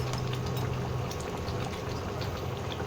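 Potatoes bubble away in a covered pot on the stove, a steady, close, rushing simmer with a faint low hum beneath, continuous and with no talking.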